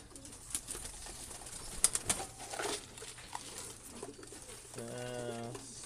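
Stock pigeons coo softly in a loft; a clear, low, wavering coo rises near the end over faint rustling, tapping and background murmur.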